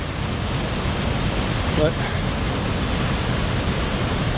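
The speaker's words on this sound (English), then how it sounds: "I'm imagining that's a lot more water than what normally pours over there" Ellenborough Falls in flood after the Manning River broke its banks, a steady, dense roar of heavy falling water heard continuously from a distance, with a single brief spoken word over it.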